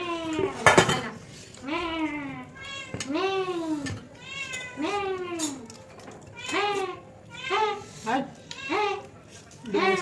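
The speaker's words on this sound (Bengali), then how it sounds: "একসাথে বিড়াল।" Several cats meow repeatedly at close range, in rising and falling calls, over a whole fish, with light clinks of dishes between the calls.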